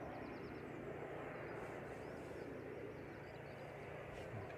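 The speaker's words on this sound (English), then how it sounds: "So this is EasyJet going to Paris Charles de Gaulle, A320-200 Classic, GEZ TR, flight 2105. Just waiting to line up." An EasyJet A320-200 Classic airliner bound for Paris Charles de Gaulle waits to line up at Manchester Airport, a low, steady engine hum and airport rumble, faint and continuous at a distance.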